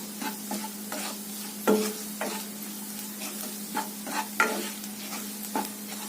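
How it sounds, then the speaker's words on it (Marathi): A spiced masala is sautéed in a pan for a cluster bean curry, with a constant sizzle under a series of distinct spatula scrapes and stirs at irregular intervals, close and clear. "आता हे मिनिटभर आपण परतून घेतलंय."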